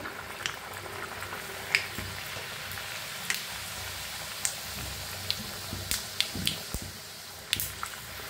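Puri dough sizzles softly in hot oil, a low continuous bubbling hiss with scattered small pops and drips, close and fairly quiet.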